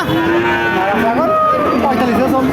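A cow moos repeatedly, loud and close, at a bustling Bangladeshi cattle market in Jhenaidah, with bull-calves for farm raising on sale and crowd noise behind.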